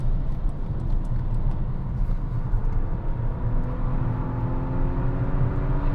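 Volvo V60 T8 Polestar Engineered plug-in hybrid driven hard on a road, its engine at high RPM giving a steady whirring drone with rising tonal harmonics, heard from inside the car without talk.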